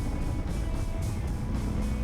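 A 2020 Harley-Davidson Low Rider S (FXLRS) motorcycle engine heard while riding, a steady, loud low rumble blended with wind rush, continuous throughout with no speech.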